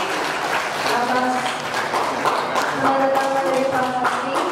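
An audience at a university hall inauguration ceremony applauds steadily throughout, a continuous wash of clapping with a voice speaking over it.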